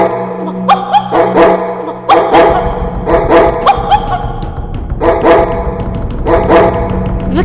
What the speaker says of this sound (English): The soldier ordered them to save him, and so the dogs frightened all who were there.